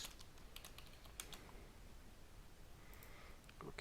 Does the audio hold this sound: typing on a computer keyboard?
yes